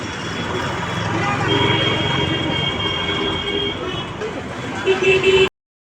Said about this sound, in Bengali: ট্রেন ঢুকছে, তোমাদেরকে একটু ট্রেন দেখাই।